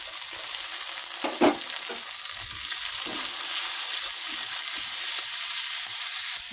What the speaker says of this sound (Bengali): ভেজে ভেজে নিচ্ছি রসুন বাটা